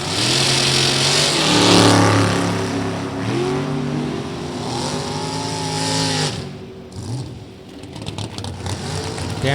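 At an NHRA Division 3 drag event at Gateway Motorsports Park, two cars launch side by side, engines roaring loud and close then rising in pitch through the gears as they pull away down the track and fade.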